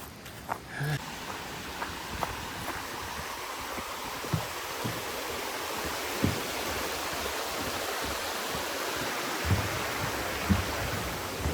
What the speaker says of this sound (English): walk alongside this stream here and enjoy the sound of the water rushing by